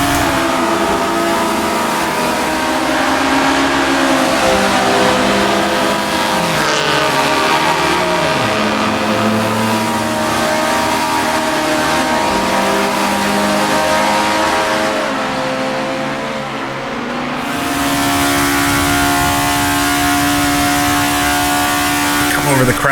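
A 1960s Japanese sports car in the Assetto Corsa racing game at Suzuka, its engine droning loudly and steadily with pitch rising and falling through gear changes, continuous throughout, with someone talking over it.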